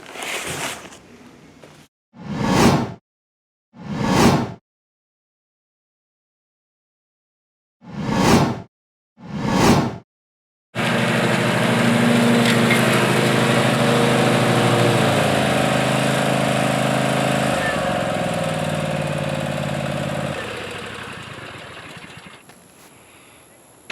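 An Ariens Ikon zero-turn lawn mower, one that won't cut grass, starts with a few short separate bursts. It then settles into a loud, steady engine drone for about thirteen seconds that tapers off near the end.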